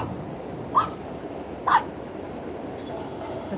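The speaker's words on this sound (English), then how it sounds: "He barks when he sees another little dog" A small dog gives two short, sharp yips about a second apart, close by over a low, steady background hum, with no other voices.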